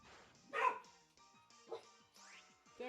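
A dog barks in short bursts indoors, three or four sharp yaps and whimpery woofs spaced across a few seconds, fairly close and moderately loud, with faint background sound between them.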